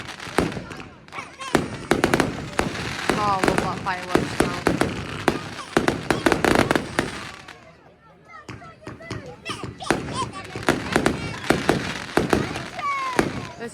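Bonfire night fireworks burst and crackle in rapid, dense volleys with a brief lull midway, and people chatter and call out over the explosions.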